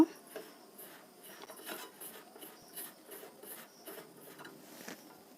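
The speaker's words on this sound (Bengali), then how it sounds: "আমি এই উপকরণগুলো সুন্দর করে মাখিয়ে নেব।" Jilepi pitha dough with salt, sugar and milk powder is worked by hand, making soft, rhythmic rubbing and squishing sounds that are quiet and close.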